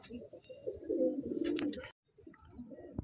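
A green pigeon of the Andhra or Chennai breed coos nearby in soft, throaty rolling phrases that break off briefly, followed by a quieter coo and a sharp click at the end.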